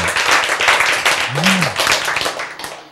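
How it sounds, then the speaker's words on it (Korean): An audience claps along briefly during a church sermon, with sharp, close handclaps running through the clip under a speaking voice. "그때는 박수 한번 쳐야 돼"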